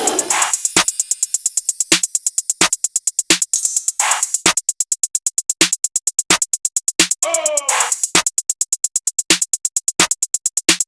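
A layered beat-making loop for a hip-hop track: steady rapid hi-hat style ticks run under a chanted vocal sample, a roaring lion effect and a crash blended with a chime, repeating in a tight pattern without speech.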